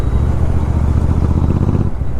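A Royal Enfield Super Meteor 650 running a Red Rooster exhaust burbles at close range, a loud, continuous low-pitched thump with no voices over it.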